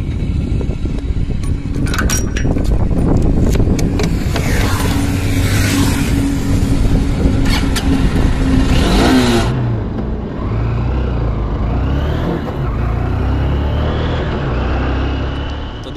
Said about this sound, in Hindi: और अब मैं बाइक स्टार्ट करके भी देख लेता हूँ दोस्तों।